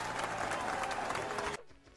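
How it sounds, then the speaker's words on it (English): A short burst of dense clapping from a crowd that cuts off abruptly, leaving quiet. "Give it a round of applause for that guy."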